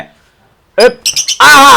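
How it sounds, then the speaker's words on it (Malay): Loud, close bird-like calls come in a quick burst: a squawk, a few short chirps, then a longer warbling cry, after a near-silent start. "Bunyi ya burung."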